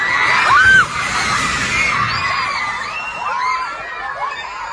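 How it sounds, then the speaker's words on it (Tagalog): Residents screaming during a magnitude 7.8 earthquake in Mindanao, a loud crowd of overlapping shrieks and shouts that opens with a bang, followed by many rising and falling high cries from nearby people. "Rinig na rinig ang mga sigaw ng mga residenteng nakasaksi at nakaranas ng pagyanig."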